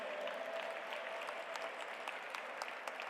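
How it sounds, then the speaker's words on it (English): Friends in the audience at the G20 Interfaith Summit valedictory session at the World Peace Dome clap for Professor W. Cole Durham Jr., a faint, steady round of applause with scattered louder claps. "Please give him a big round of applause"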